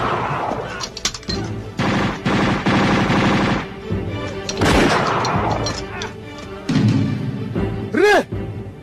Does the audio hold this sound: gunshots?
yes